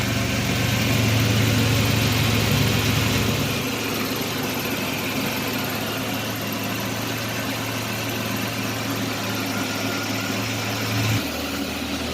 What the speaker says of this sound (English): So this thing's kind of running rough.